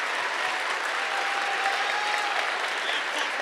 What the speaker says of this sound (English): Can we please give all of them a round of applause?